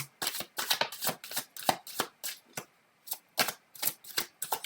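A deck of tarot cards is shuffled over and over up close, each riffle a crisp burst of flicking paper in a steady, rapid rhythm with short pauses between, and no voices.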